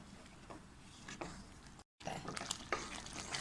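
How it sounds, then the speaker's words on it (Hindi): Halwa with sugar and ghee stirred in a pan over a low flame, a close, soft scraping and gentle sizzle with a few spoon strokes against the pan, briefly cut silent midway. "और अब इसमें डाल देंगे हम चीनी भी, इसको भी मिक्स कर लेंगे।"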